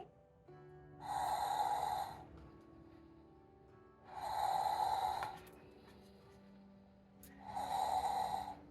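A voice imitates snoring while reading a bedtime story about a construction site, three slow, drawn-out snores at steady intervals with quiet pauses between them.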